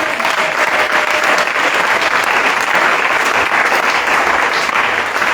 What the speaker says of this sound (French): Applaudissons le béni.